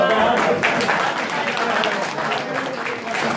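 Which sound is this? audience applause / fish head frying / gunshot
audience applause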